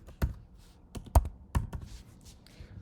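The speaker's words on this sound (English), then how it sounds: "We then go back to the browser and type in the session and the server host name or IP." Keys clacking on a computer keyboard while a server host name is entered, a few separate close strokes spread across a short pause-filled stretch with no talking.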